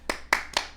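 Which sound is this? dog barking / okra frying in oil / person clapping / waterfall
person clapping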